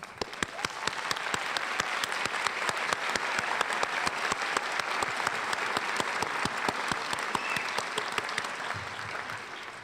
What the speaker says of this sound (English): Please stand if you earned an ESL endorsement, and we can applaud for you.